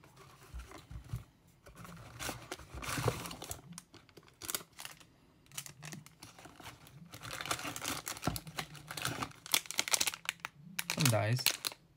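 Crinkling plastic wrap and rustling packaging from a Pokemon Fusion Strike Elite Trainer Box being opened, in uneven close bursts with clicks and tapping between them, and a voice speaking over parts of it.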